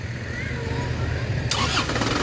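A car engine, recently fitted with a new battery after it would not start, cranks and then bursts into a loud running roar about halfway through, heard close with people talking nearby.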